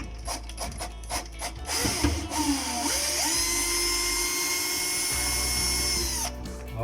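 Power drill backing screws out of a Whirlpool electric cooker hood: several short whirring bursts, then a sustained high-pitched whine that steadies and stops abruptly, loud and close.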